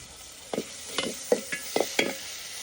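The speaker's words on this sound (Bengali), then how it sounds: "প্রথমে হচ্ছে রসুন বাটা, আদা বাটা, আর হচ্ছে জিরা বাটা দিয়ে দিলাম।" Garlic, ginger and cumin paste frying in a pan: a soft steady sizzle with about five distinct spoon strokes scraping and stirring at a relaxed, uneven pace, close up and with no talking.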